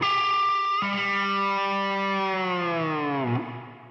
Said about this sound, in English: to the open G for a dive bomb with the tremolo arm